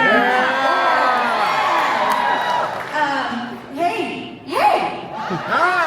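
A convention panel audience at Megacon cheers and whoops loudly, the crowd noise swelling in bursts with overlapping shouts and voices.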